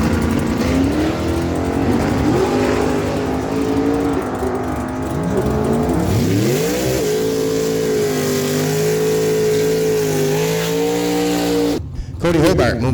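Drag race cars, including a 1967 Chevrolet Camaro RS SS, roar down the dragway with a loud sustained engine drone that climbs in pitch as they accelerate away, while an announcer talks over the racing.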